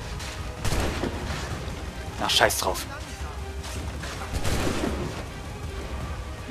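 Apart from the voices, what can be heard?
gunfire in the video game Assassin's Creed 3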